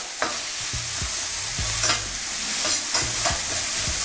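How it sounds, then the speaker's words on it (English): Onions and peppers sautéing in a frying pan, a steady bright sizzle with intermittent scraping stirs and soft clunks of the utensil against the pan, close and without talk. "You want to lightly saute them and then remove."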